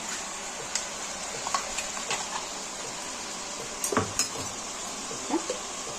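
Ground masala frying with chicken in a pan makes a low, steady sizzle under frequent clinks and scrapes of a spoon against the pan, with a busier cluster of stirring knocks midway and no talk.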